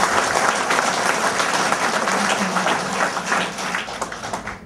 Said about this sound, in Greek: Ένα δυνατό χειροκρότημα στα παιδιά που θα πάνε κόντρα στο τοπικό πολιτικό κατεστημένο.